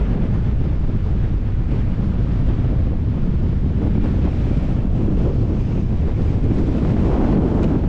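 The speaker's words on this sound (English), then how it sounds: "What a blowy old day." Strong wind blows across a marina in a loud, constant roar, heavily buffeting the microphone with a low rumble and faint water motion beneath, no talk.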